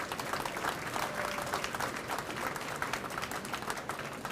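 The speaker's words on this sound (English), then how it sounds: "Give yourselves a big round of applause." A crowd at an outdoor Eastern Shore campaign rally gives a sustained round of applause. Many hands clap densely and evenly throughout, with a few scattered cheers mixed in and no talking over it.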